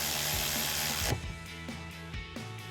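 A bolt is tightened with a ratchet during installation of a brush guard on a 2021-2023 Ford Bronco: a burst of clicking gives way to several separate ratchet clicks and metal knocks, close and without talk.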